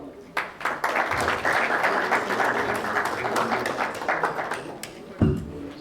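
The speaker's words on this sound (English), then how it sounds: "request you all to applaud" Applause from an audience at a talk honoring Mr. Krishnan, a dense steady wash of many hands clapping for several seconds, with a brief louder burst near the end.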